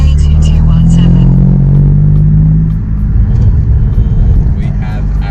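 A BMW M4's engine rumbles deep and loud from inside the car while driving on a road, a heavy low drone that eases slightly midway as someone talks over it.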